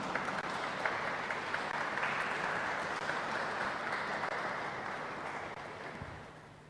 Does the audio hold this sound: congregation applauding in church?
yes